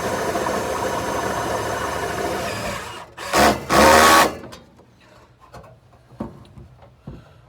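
A power driver whirs as a self-tapping screw bites into the sheet-metal transmission tunnel of a 1966 Chevy, then two short, loud grinding bursts follow, trailing into quieter scattered clicks.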